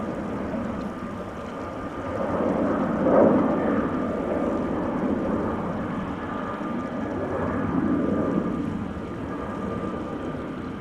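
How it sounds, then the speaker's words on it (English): A Transavia Boeing 737-800 departing Amsterdam Schiphol Airport, its engines droning and swelling in a long, steady roar at a moderate distance, rising and easing slightly over time. "This is a Transavia 737-800 going to Thessaloniki in Greece"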